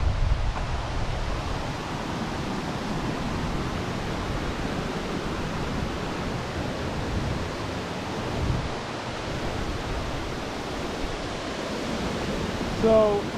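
River water rushes and churns steadily at a water wheel nearby, a continuous broadband roar with gusty wind noise on the microphone.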